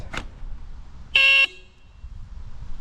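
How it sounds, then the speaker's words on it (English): A single short, high-pitched electronic horn beep from a Duotts D88 electric bike, bright and slightly shrill, sounding alone against a quiet background. "if you also find that your horn is a bit screechy"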